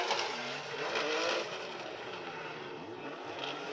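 A VR-engined Nissan Z drifts around Suzuka Twin Circuit during Formula Drift Japan qualifying, its engine revving amid a broad rush of tire noise, heard faintly from a distance.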